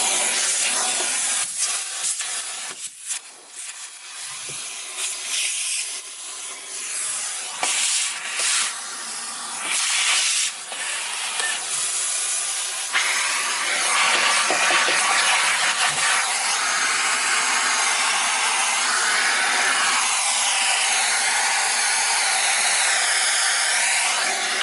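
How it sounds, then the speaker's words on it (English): A central vacuum system runs steadily with a broad, airy hiss, with some shifting and rubbing noises over it and no talk. "we're going to turn the central vac back on just to show you"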